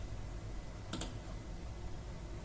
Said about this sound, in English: Now right-click any file and click on Delete.